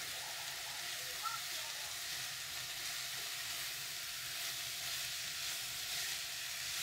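Beetroot and carrot fry steadily in a pan while being stirred, giving a continuous soft sizzle with no clear breaks.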